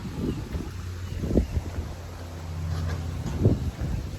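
Strong wind buffeting outdoors in open countryside, a continuous rushing roar with gusty swells and microphone buffeting throughout, no talking.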